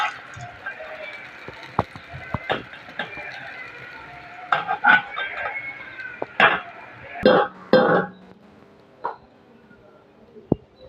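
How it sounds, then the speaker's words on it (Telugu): Bitter gourd pieces fry in a pan and are stirred, giving a low sizzle broken by scraping and clinking strokes at irregular intervals. Speech is heard at times. "మరి కాకరకాయ ముక్కలు వేగిపోయండి"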